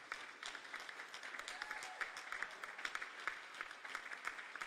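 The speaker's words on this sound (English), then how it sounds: "Why don't you just give them all a round of applause?" An audience applauds steadily, with many hands clapping in a continuous, somewhat distant wash of claps that stays fairly even and quiet throughout.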